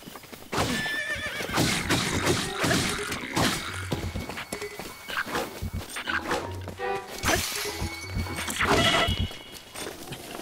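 A horse in The Legend of Zelda: Breath of the Wild neighs and whinnies several times with clip-clop hoofbeats, set against a busy, continuous game soundtrack and effects.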